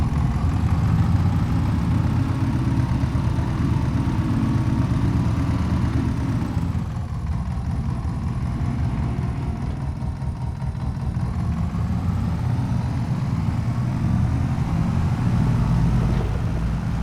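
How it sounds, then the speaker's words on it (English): An old single-piston farm engine running steadily, a loud low rhythmic chugging at close range that dips slightly midway, with no talking. "One piston engine going at it."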